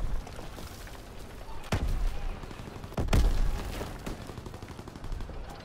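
Gunfire in Call of Duty WWII multiplayer, a steady rattle of distant shots punctuated by two heavy close booms, with battlefield rumble throughout.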